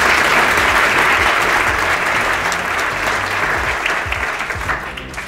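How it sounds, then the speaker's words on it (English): A room full of attendees at a 2019 company kickoff event gives a big round of applause, dense sustained clapping close and loud throughout, tapering slightly near the end. "So a big round of applause for her."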